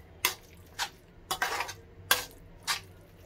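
Baingan bharta with chopped coriander stirred in a pan, giving five separate scraping clinks of a spoon against metal at an even pace. The sounds are close and moderately loud, with no talking.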